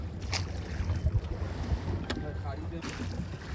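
River water sloshing against a strongly rocking fishing boat casting nets for hilsa during a full-moon spring tide, with steady wind buffeting the microphone and a few louder splashes.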